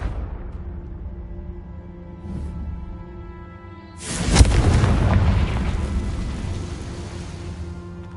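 Confringo blasting spells from the game Hogwarts Legacy: a muffled boom early on, then a loud blast about halfway through that leaves a long, rumbling wash of debris and noise fading slowly.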